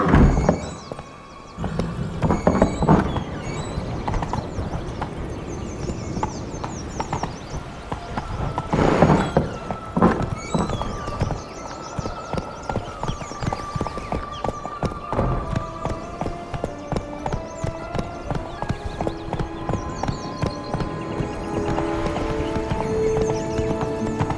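Roach, Geralt's horse in The Witcher 3: Blood and Wine, trotting with steady clip-clop hoofbeats, a whinny and snorts near the start, over quiet game ambience.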